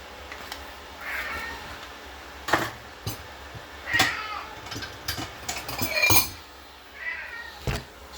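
A cat meows several times close by for its cat food, short calls spread through the moment, with clinks of dishes and cutlery in a home kitchen.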